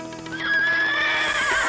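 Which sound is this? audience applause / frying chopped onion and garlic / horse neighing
horse neighing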